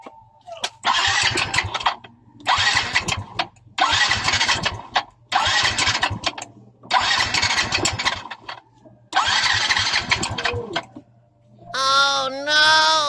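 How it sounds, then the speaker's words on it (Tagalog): A Yamaha Mio i 125 scooter engine with a piston slap fault revs up close by in about six rough bursts separated by short pauses, followed by a brief tonal sound at the end. "para marinig nyo kung anong ingay ng makina meron siya"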